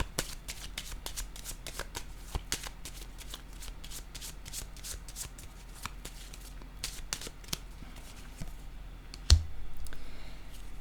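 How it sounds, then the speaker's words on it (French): Tarot cards are shuffled and set down in a quick run of crisp, papery riffles and soft clicks, close and quiet, then end with a sharper single tap of a card being placed. "Je vais déposer une carte entre ces deux-là."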